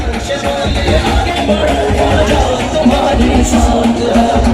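Loud, dense applause from a crowd at a community event in Dharavi honouring a social worker, a steady wash of clapping lasting throughout, with crowd murmur underneath.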